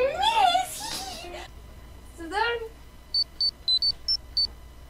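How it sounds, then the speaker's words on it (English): Phone text message notification: a quick series of five or six short, bright electronic beeps in a clipped rhythm, coming right after an animated voice and sound effects. "So then my phone sent me a text."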